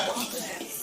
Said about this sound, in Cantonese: 咁而家嚟炒牛肉啊，嗰個油鑊，要將個料頭爆一爆嘅